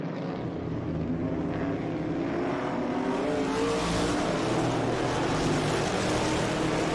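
Race cars, including a classic Dodge Challenger and a 1968 Camaro, roar through turn 2 at Laguna Seca, with a broad engine drone that builds as the cars close in and pass nearly side by side.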